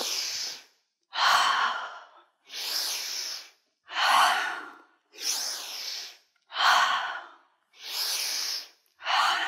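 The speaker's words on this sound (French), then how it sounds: "Et on expire, on relâche." Eight slow, even breaths, each a soft airy whoosh followed by a pause, in a calm indoor yoga breathing exercise, close and clear with no talking.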